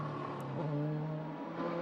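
An Opel DTM race car at Hockenheim in 2003 passes on the straight, its engine note rising and shifting as it goes by, fairly loud and close, with a clear tonal whine and no voices.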